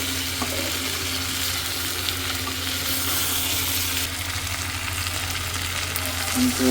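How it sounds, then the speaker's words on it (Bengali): Meat cooking in a pan over a fire, giving a loud, steady close-up sizzle and frying hiss with faint stirring throughout, no voices. "মাংস বসানো প্রায় শেষের দিকে"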